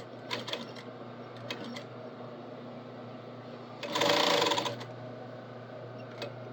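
Sewing machine topstitching a fabric apron, with a steady low mechanical hum, a few short clicks early on and a louder, brighter burst of fast stitching near the middle before the motor settles back to a quieter whir.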